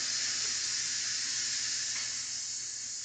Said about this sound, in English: So we're going to let the steam out of these.